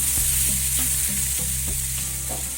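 Boiled kabuli chickpeas are sautéed with chana masala in a pan, producing a loud, continuous sizzle with rhythmic spatula scrapes sounding roughly every half second, close up.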